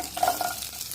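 Cinnamon, biryani spices, shahjeera, asafoetida, seasoning seeds, green chillies and curry leaves fry in a spoonful of oil in a pan for a restaurant-style cauliflower curry. The oil gives a soft, steady sizzle with brief stirring noises.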